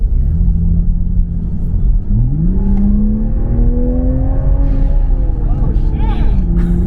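A Toyota Supra accelerates hard in race mode on a test drive, its engine rumbling loudly and climbing in pitch through gear shifts, with people talking over the cabin noise.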